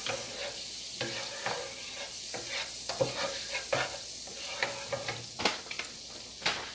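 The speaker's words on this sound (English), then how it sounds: "we're going to start sauteing off our veggies" Vegetables sauté in a hot skillet for a vegan Cajun alfredo, with a steady close sizzle and frequent stirring scrapes and taps.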